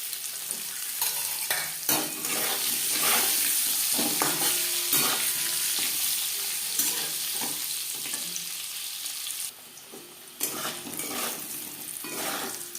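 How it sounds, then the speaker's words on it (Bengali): Potato pieces fry in hot oil for egg biryani, a bright continuous sizzle broken by repeated stirring scrapes and clinks of a utensil against the pan, with a brief quieter gap near the end. "আলু ভেজে নেব।"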